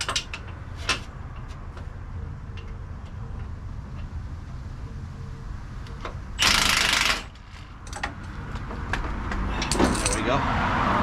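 A Milwaukee power tool runs in one brief loud burst of under a second to loosen a suspension bolt on a Jeep Wrangler 4xe during a lift kit install, amid metallic clinks and background shop noise.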